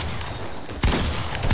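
Shotgun blasts in the battle-royale shooter Fortnite, a sharp loud report near the middle over a busy background of game gunfire and noise.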